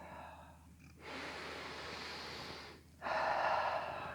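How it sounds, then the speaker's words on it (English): Slow, deep breaths during a yoga class: a soft nasal inhale, a pause, then a louder, fuller exhale through the mouth, close and unaccompanied by talk. "Big inhales through your nose, big exhales out of your mouth."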